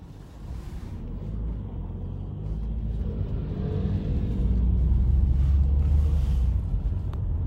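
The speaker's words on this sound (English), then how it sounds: "insanity of the traffic around the Arc de Triomphe" Dense Paris traffic circling the Arc de Triomphe, with buses, small cars and motorcycles rumbling close by and engines swelling louder as the vehicle moves along.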